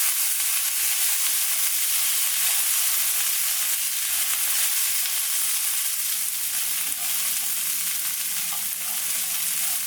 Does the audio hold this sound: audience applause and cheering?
no